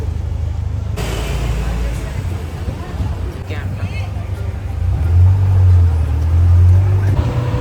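A tuk-tuk rolling through Phuket, its motor a low steady drone that grows louder and rougher partway through, with someone talking over it.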